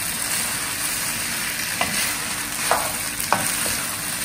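Schezwan fried rice being stirred and mixed in a pot over high heat, a steady loud sizzle with a few sharp scraping clinks of the spoon against the metal, no voices.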